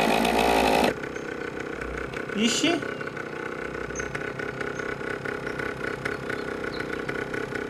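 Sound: motorcycle engine in video game My Summer Car

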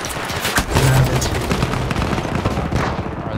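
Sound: gunfire in the video game Battlefield 1

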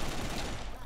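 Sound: gunfire from the Saurus gun in Brick-Force video game

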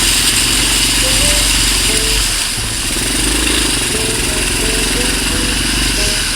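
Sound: motorcycle engine riding through flood water

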